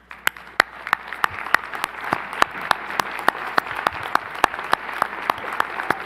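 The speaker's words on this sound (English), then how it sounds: "give you a big round of applause as a parent" Audience at a matriculation ceremony giving parents a round of applause, steady crowd clapping with sharp close claps standing out at a regular beat throughout.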